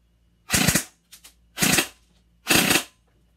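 An Airsoft GI Custom Spectre airsoft gun fires full auto in three sharp, loud close bursts, each a quick rattling burst at a very high rate of fire, separated by brief pauses with a faint click between.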